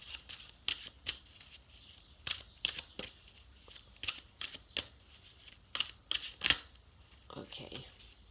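Tarot cards shuffled by hand in a series of crisp riffling bursts, close and moderately loud, with short pauses between handfuls.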